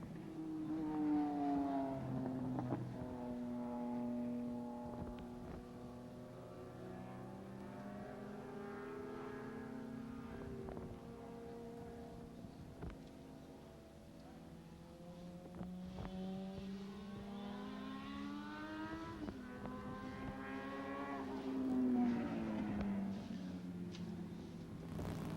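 Kawasaki ZX 1100 race machines at a night race in Quinte, engines rising and falling in pitch as they sweep past in several passes, heard faintly from a distance.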